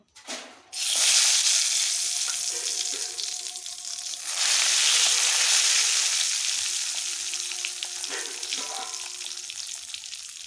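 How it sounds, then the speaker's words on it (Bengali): Steady loud sizzling of eggplant slices frying in hot oil in a wok, with a fresh burst of crackle partway through as more pieces go in; occasional soft clinks, no voices. "বেগুনগুলো এরকম লাল লাল করে ভেজে নিতে হবে"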